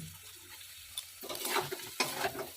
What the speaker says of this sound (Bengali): দিয়ে বেশ কিছুক্ষণ নাড়াচাড়া করে নেব আর কি সবজিগুলোর সাথে মশলাটা ভালো করে মিশিয়ে নেব